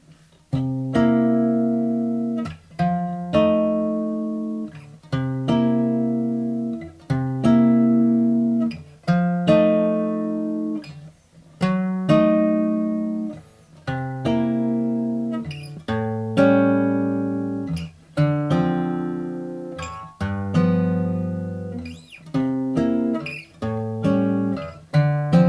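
A jazz blues chord progression played slowly on guitar, each chord struck and left to ring, with spaced attacks and sustained decaying notes, no voice.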